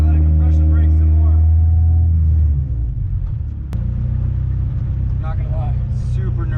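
Honda CRX Si engine droning from inside the car on a road, deep steady rumble that drops in pitch as it compression brakes, with a brief click midway and a person speaking over it.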